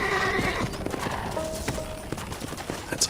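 A horse in the Red Dead Redemption video game gives a clear whinny over steady clip-clop hoofbeats, moderately close and fairly quiet.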